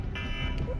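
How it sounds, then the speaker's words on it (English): A phone alarm going off indoors during a Fortnite session, a steady electronic buzzing tone held for under a second with pulsing upper notes, fairly quiet behind low background noise. "There's one of my alarms, because normally I'm leaving for work right about now."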